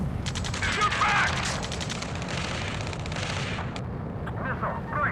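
Heavy gunfire and explosions rage through combat in Ace Combat 7, with dense rattling bursts and booms filling the scene continuously, loud and close, while radio voices speak over it.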